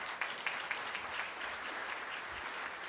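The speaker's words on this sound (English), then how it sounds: "Let's give them another round of applause" Faint, even applause from a Rotary Club luncheon audience after a vocal group performs, a steady distant patter of many hands with no talking over it.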